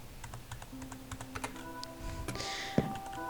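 Fingers tap out a password on a computer keyboard in a string of quick, uneven keystrokes, close and moderately quiet, with a couple of louder final key presses and faint background hum.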